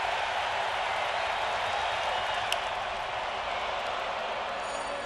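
Baseball stadium crowd at a Yankees vs Blue Jays game, a steady broad roar of many voices holding loud and even throughout, with no distinct individual shouts standing out.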